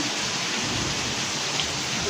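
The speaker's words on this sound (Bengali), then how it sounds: "সারাদিনে এত পরিমাণ গরম ছিল, এখন বৃষ্টিটা হয়ে" Rain pouring outside at night during a thunderstorm with lightning after a hot day, a dense steady hiss of rainfall heard from indoors, unbroken across the moment, with no voices.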